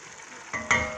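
Onions sizzle in a pan with meat browning in their juices, no water added, for Algerian chakhchoukha; a brief close frying hiss swells suddenly as food is stirred.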